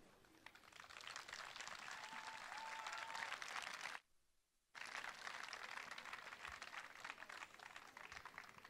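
A concert audience at a stage show in Ajaccio claps in a dense, sustained burst of applause, broken by a short gap before resuming just as strongly.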